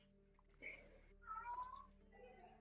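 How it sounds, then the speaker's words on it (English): A cat gives two soft, drawn-out meows nearby against a low background hum. "It's a cat."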